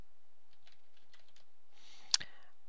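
Keyboard typing on a Windows 8 computer while searching for the command prompt, a sparse run of faint clicks followed by a sharper burst of keystrokes near the end.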